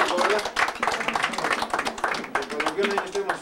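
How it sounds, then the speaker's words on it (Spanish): A festive crowd at a baptism party claps loudly for the family's new heir, a dense, uneven patter of hands mixed with voices and cheering throughout. "pido un fuerte aplauso para el nuevo heredero"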